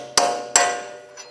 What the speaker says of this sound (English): Using a punch and a hammer, we're gonna stake the axle nut